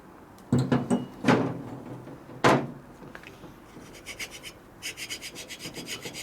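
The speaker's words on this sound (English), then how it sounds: "This is a carbide tipped gasket scraper. Very sharp, very flat." A sharp, flat carbide-tipped gasket scraper rasps paint off a metal Harley Sportster engine part, several quick harsh strokes followed by lighter rhythmic scraping, close and fairly loud with no talking.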